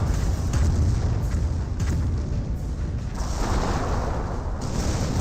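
A Calliope rocket artillery barrage pounds the field in Company of Heroes, a loud, continuous rumble of overlapping booms and blasts with no clear pauses.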